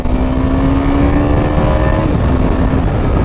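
KTM motorcycle on a test ride, its engine holding a loud, steady droning note at high revs close by, with no talk over it.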